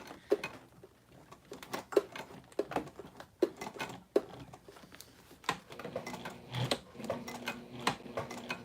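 A sewing machine stitching through thick leather on a crossbody bag, with faint, sharp clicks in an uneven rhythm that becomes a busier mechanical chatter toward the end.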